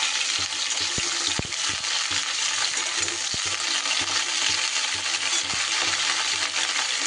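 Broccoli frying in a pan while being stirred, a continuous loud sizzle with occasional sharp clicks and scrapes of the utensil against the pan.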